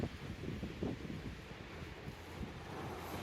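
Wind on the Margate seafront on a cold, rainy day, a low gusty rumble buffeting the microphone with faint rustling, fairly quiet and steady throughout, with no voices.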